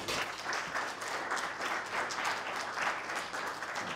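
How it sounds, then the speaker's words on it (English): Sustained audience applause fills a demo day event for a web development coding bootcamp, a dense, steady wash of many hands clapping at moderate distance with no talk over it. "So from all of the teachers, we want to thank all of the students for everything that they put into the course. So give yourself a round of applause there."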